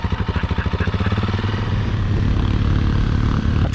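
A KTM motorcycle engine runs after a hard start, beginning with a rhythmic, throbbing idle and then revving up into a loud, steady drone close by.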